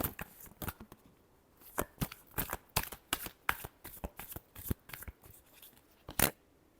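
Tarot cards being shuffled for a final time before a reading, a soft, close run of crisp riffles and flicks in uneven bursts, quiet overall with no talk.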